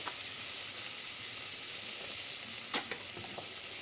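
Flour stirred into about 100 grams of melted butter for a bechamel sauce gives a soft, steady sizzle in the pan, with a few faint scraping clicks near the end and no talking.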